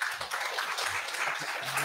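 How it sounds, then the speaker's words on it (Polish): Audience at an award gala for a reading contest claps in steady, dense applause, a bright crackling wash with faint murmurs underneath, heard from within the hall. "Wielkie gratulacje i brawa."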